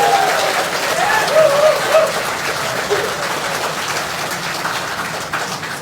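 A crowd of Pandacan residents gives a warm round of applause at a public gathering in Manila honouring the MMDA, with dense, steady clapping sustained throughout and a faint voice briefly rising above it.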